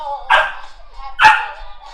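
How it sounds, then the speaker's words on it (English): A dog gives two sharp, separate barks close by, spaced about a second apart, against an otherwise quiet indoor background. "It's my dog."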